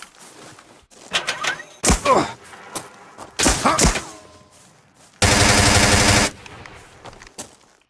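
Machine gun fire in the military shooter game America's Army, with loud bursts and single shots over several seconds and one long sustained burst near the end, plus faint background game sounds.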